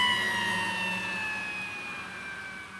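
A siren wails from a fire rescue bus, a loud tone held steady that slowly falls in pitch and fades a little as it goes on, with no one talking.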